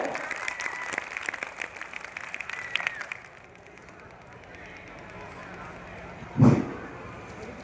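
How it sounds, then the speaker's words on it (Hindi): Audience at an Indian stage event applauds for the first few seconds, a dense, moderately loud patter of many hands that breaks off abruptly, leaving quiet room tone and one brief thump. "जरा एक बार माहौल बना दीजिए, तालियों का माहौल।"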